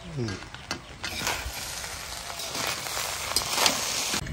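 Cashews and raisins are stirred in a dry pan for fried rice, giving a steady scraping, rustling sizzle with a few sharper clicks of spoon against pan, close and continuous throughout.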